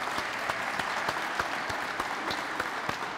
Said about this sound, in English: let's clap for her anyway.